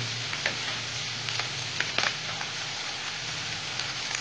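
Chopped garlic sizzles in hot oil for a Bombay duck dish: a steady, close, crackling fry with a few light stirring taps on top.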